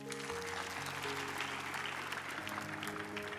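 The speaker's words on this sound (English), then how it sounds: "So clap for him again." Church congregation applauding during a sermon, a faint, sustained patter of clapping over a low held organ or keyboard chord.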